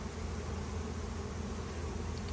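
Honeybees swarm around a newly installed nuc box in a new hive colony, making a steady, dense buzz that holds at an even level throughout with no voices.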